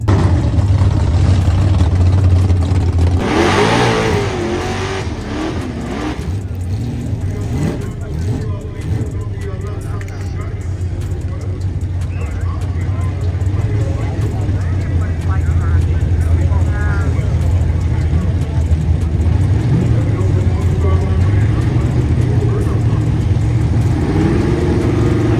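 A Chevy II drag car with big tires makes a run down a drag strip. A loud engine roar and drone runs throughout, rising and falling, and a voice talks over it.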